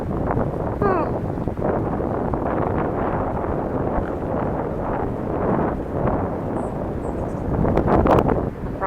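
Strong wind buffets a microphone outdoors, a rough, continuous low roar with gusts swelling and fading while someone talks over it.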